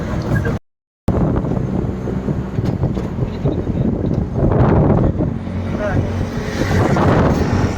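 Auto rickshaw ride heard from inside the cab, with a rattling engine, road rumble and wind buffeting over the microphone, broken by a brief dropout early on.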